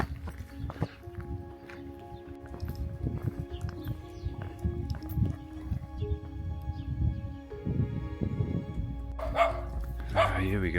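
Village dogs in rural Portugal bark repeatedly in bursts at moderate distance, mixed with footsteps and a person talking.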